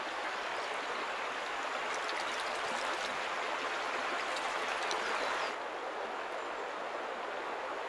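A coastal salmon river rushing over shallow rapids and obstacles, a constant broad roar of flowing water that drops slightly in intensity near the end, with no voices.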